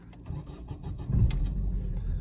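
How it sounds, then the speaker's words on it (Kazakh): Car engine cranking and catching after being started with a newly made chip key, a short close burst of starter chatter that settles into an idle rumble. "Көлік осылай міне от алды."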